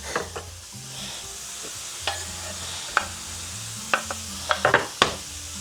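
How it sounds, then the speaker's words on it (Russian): Lamb and onion fry in a pan, giving a steady sizzle while a utensil stirs them, with occasional scraping clinks against the pan that grow more frequent toward the end. "Так, пускай потихонечку это все пережарится"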